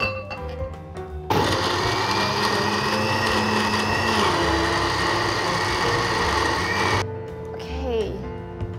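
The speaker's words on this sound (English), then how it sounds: "We're going to blend some, but not all of them" A kitchen blender purees sliced mushrooms for a vegan soup, its motor starting abruptly into a loud, steady whirring roar that runs for about six seconds before cutting off, with quieter handling sounds before and after.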